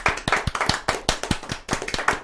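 A small group of people in a radio show studio clap, with sharp separate hand claps in an uneven, quick rhythm, close and fairly quiet, and no talk.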